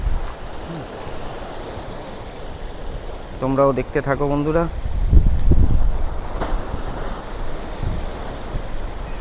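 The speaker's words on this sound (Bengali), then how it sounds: "সমুদ্রের এতটা উত্তাল তারপরে বাতাসের তীব্রতা দুটোই একইভাবে চলছে ঘূর্ণিঝড়ের প্রভাবে একেবারেই উত্তাল সমুদ্র দেখতেই পাচ্ছ কত বড় বড় ঢেউ" Rough, churning sea and strong gusting wind whipped up by a cyclone's deep depression along the Mousuni river boundary form a steady, loud roar, with someone talking briefly over it partway through.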